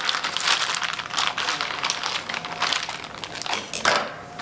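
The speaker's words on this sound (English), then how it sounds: "Then we're gonna take our scissors. We're gonna cut in the middle." Close crinkling and crunching of plastic wrap being cut with scissors, a steady rustling texture with a few sharper snips, no voices.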